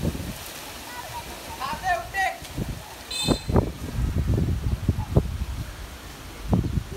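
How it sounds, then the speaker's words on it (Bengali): Kalbaishakhi Nor'wester storm winds whipping up dust amid hail, a rough, gusty roar with irregular swells and bursts, loud and close throughout. "কালবৈশাখী ঝড় গাইস, কালবৈশাখী ঝড় উঠেছে"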